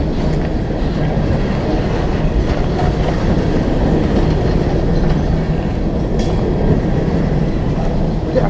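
A train rumbles past nearby, a steady low roar with faint rhythmic clatter of wheels on rails throughout.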